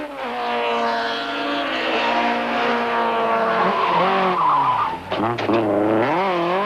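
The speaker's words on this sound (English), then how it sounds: "Nick de Waal slams his Nissan into the curb as he exits stage 3" A Nissan rally car exits a stage at the 1992 Total International Rally and strikes the curb. The engine howls loudly and close with squealing tyres, the revs dip sharply near the end, then climb again.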